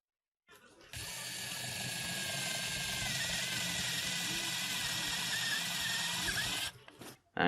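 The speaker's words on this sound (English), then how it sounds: "Now let's jump to drilling." A Jakemy 2-in-1 drill/screwdriver bores through timber, giving a steady, close, high motor whine for about six seconds that starts abruptly and then stops.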